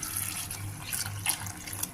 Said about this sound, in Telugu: వాటర్ పోసి ఉడికించుకోవాలి